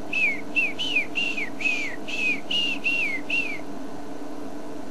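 A hornbill's clear whistled call repeats about nine times in a steady rhythm, each note sliding downward, over a constant low background hum.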